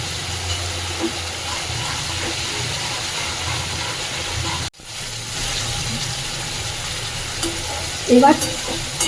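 Biryani masala sizzles and fries in hot oil while being stirred in a pan for Kolkata-style chicken chaap, a steady loud hiss with scraping stirs and a brief break partway, no talking.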